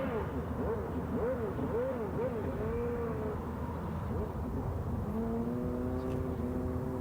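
A 1993 IndyCar races around a circuit whose back straight runs beside a freeway, its engine note rising and falling in smooth sweeps under a steady rumble of traffic and trucks.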